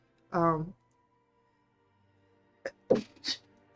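A single short, sharp sneeze bursts out in a quiet room, followed a couple of seconds later by a few brief, soft noises.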